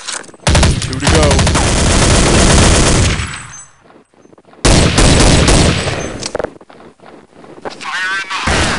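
Counter-Strike 1.6 gunfire on the csde_recon map: heavy, loud automatic bursts that stop for about a second, resume in a second long volley, then fade into quieter noise.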